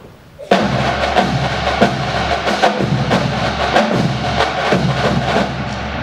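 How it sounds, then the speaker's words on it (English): Marching band percussion section with snare drums, bass drums, cymbals and tenors, playing together at a home town concert for an OSU fight song demo: loud, steady drumming with repeated sharp hits, cymbal wash and deep bass thumps. "Snare drums, bass drums, cymbals, and tenors. No band would be complete without a percussion section."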